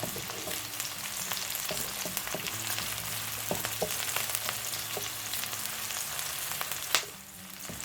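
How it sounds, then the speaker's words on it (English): Tuna pie filling ingredients fry steadily in a pan, a continuous close sizzle with scattered crackles and the odd clink of stirring, ending in a single louder knock near the end. "we are going to leave this to fry for like 2 minutes before adding the rest of our ingredients"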